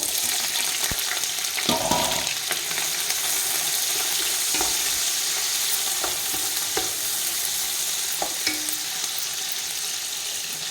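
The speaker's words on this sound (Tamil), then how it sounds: "எண்ணெய் நல்லா காஞ்சிடுச்சு. நம்ம வெங்காயத்தை சேர்த்துக்கலாம்." Onions frying in hot oil for Dindigul-style mutton biryani, a loud, steady sizzle with occasional spoon scrapes and stirring knocks close by.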